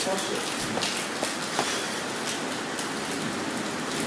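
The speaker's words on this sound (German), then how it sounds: "Es ist dunkel, es regnet." Rain falling at night at a city petrol station, a steady close hiss of drops with a few faint knocks, unbroken throughout.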